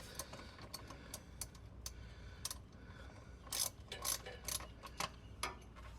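A 15 mm 6-point socket on a ratchet loosens the oil drain plug of a Ford F-150 with the 5.0 Coyote engine, producing quiet close-up clicks and metallic ticks in an irregular rhythm.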